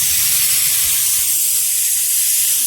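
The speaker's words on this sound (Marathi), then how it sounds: "कुकरच्या आपल्या 3 शिट्ट्या झालेल्या आहेत" A pressure cooker cooking palak dal khichadi vents steam in a continuous, loud, close hiss with no break.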